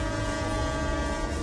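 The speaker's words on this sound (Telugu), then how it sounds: "అరే ట్రైన్ వచ్చేసింది" A train pulls into a station in a Telugu comedy film scene, with a steady, fairly loud rumble and a sustained horn-like tone running through the whole stretch. No one speaks.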